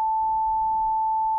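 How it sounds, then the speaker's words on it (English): A pure 440 Hz sine tone generated by a simple Python synthesizer holds one steady, unwavering pitch from start to finish, clean and alone with no other sound. "pure sine tone resonating at a frequency of 440 hertz"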